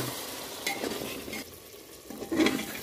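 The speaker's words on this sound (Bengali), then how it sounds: "টমেটো কাঁচা লঙ্কার পেস্টটা দিয়ে দিয়েছি, ভালো করে কষে নেব" Chicken is stir-fried in a pan with tomato and green chilli paste. A soft, steady sizzle runs under a few spatula scrapes and stirring clicks, with no talking.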